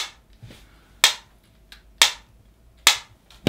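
A wireless earbud charging case lid snaps shut on its hinge four times at roughly one-second intervals, each a sharp, close click with a quick decay over near silence.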